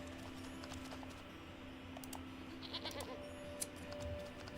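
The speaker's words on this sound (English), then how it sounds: "Hello, goat." A goat bleats in a video game, a soft, fairly quiet call over steady background noise and a low hum, with a few brief clicks near the end.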